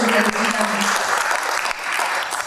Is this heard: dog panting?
no